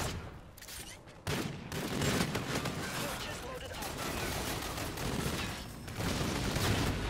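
Rapid bursts of gunfire from the OSA gun in a video game rattle loudly and nearly continuously, with dense overlapping shots and a sharp onset partway through, while a player talks over the action.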